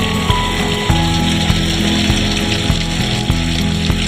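Ginger paste fries in a pan, a loud, dense, continuous sizzle close up with a low hum and periodic soft knocks throughout, no voices.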